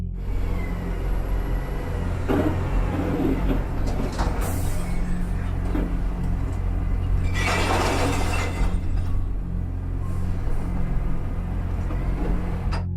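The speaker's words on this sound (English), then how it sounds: "The sound of shattering glass and metal echoed as the destruction continued." A heavy truck rumbles continuously while bursts of crashing and shattering glass and metal break through as it smashes into things, loudest in the middle, with scattered clatter around them.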